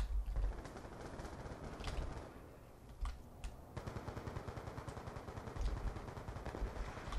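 Rapid automatic gunfire in the video game Black Ops 2, bursts of fast shots with brief pauses, moderately quiet and without talk.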